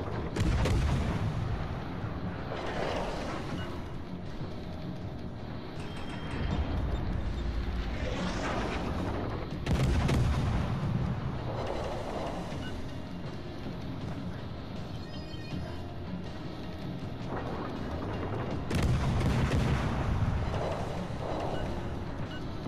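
Naval gunfire in World of Warships: Legends, with a French Jurien cruiser and a Russian Novik in play, comes as deep booming salvos at intervals over a constant low engine and water rumble, with no talk.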